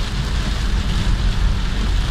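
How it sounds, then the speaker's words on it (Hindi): Heavy rain pours onto a road during a storm in Jazan, a loud, dense and continuous hiss with a low rumbling undertone and no pauses. "पहली बारिश है जो इतनी तेज़ी से हो रही है और इतनी ज़्यादा हो रही है।"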